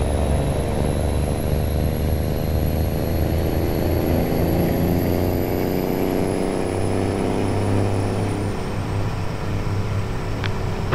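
A helicopter in Euro Truck Simulator 2 with a mod, its steady droning rotor and engine roar continuous and loud throughout, with a faint pitch drift toward the end.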